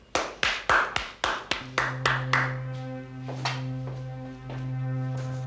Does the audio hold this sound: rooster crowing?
no